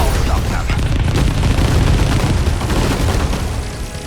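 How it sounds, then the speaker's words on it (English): Multi-lock missiles burst in a dense barrage of booms and explosions during a battle in 13 Sentinels: Aegis Rim, loud and continuous with no pause. "Multi-lock missiles. Go."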